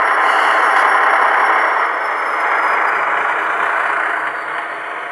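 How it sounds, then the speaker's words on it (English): A model diesel engine sound from a Heljan Class 27 model locomotive fitted with a sound unit drones steadily at moderate volume, easing slightly as the rumble settles lower toward the end, with no talking. "you can hear the engine die away because it doesn't need the power anymore"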